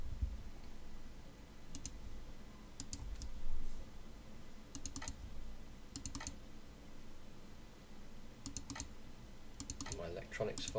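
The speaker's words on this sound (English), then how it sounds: "So I'm exporting, export movie." Fingers type on a computer keyboard in short bursts of quick clicks separated by pauses, close and clear over a low room hum.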